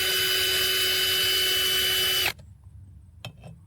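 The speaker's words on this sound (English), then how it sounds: "Use the drill to screw them in one by one, but be mindful of the pressure." A power drill drives screws into an aluminum RV flagpole holder bracket, whirring steadily and loudly for a couple of seconds before stopping abruptly. A faint click or two follows in the quiet.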